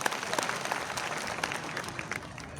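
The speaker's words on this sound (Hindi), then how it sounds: "उसके लिए सबसे पहले आप ताली बजा के अभिवादन करिए।" Faint, steady applause from an outdoor audience under a decorated tent at a World Tribal Day speech in Dungarpur, Rajasthan, scattered claps across a thin crowd.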